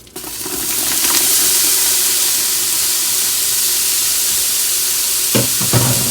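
Onions dumped into a hot pan, a sudden loud sizzle that swells quickly into a steady, close hiss lasting several seconds, with a couple of stirring knocks near the end.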